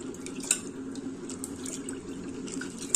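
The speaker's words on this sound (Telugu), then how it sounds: "ఒకసారి కందిపప్పు కడుక్కొని మళ్ళీ రెండోసారి పోసుకొని ఈ బుడంకాయలు కూడా మళ్ళీ ఇంకా రెండోసారి కడుక్కొని వేస్తానండి" Toor dal and brinjal pieces being rinsed in water in a home kitchen, a steady close splashing and trickling of water with small sloshes and clinks, no speech.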